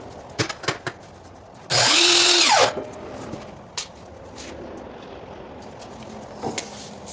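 A power saw makes a 22.5 degree cut through crown molding, one loud burst of under a second that spins up, bites and winds down. Scattered knocks and handling clatter come before and after.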